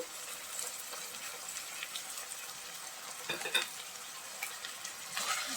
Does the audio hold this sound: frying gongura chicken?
yes